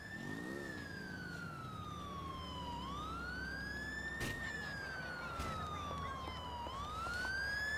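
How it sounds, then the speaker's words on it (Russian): A police siren in the video game GTA IV wails up and down in long slow sweeps over steady road rumble, loud and continuous, with no voices. "Слышу сирену, не вижу."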